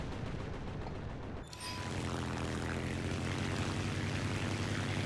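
Propeller fighter plane engine in the War Thunder video game, an I-15 biplane in combat, a steady loud droning roar that swells after a brief dip, with no talk.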